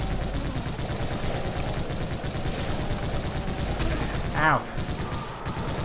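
Rapid, dense gunfire from shooting enemies in the video game Brutal Doom crackles continuously at close range, with a short pained cry partway through.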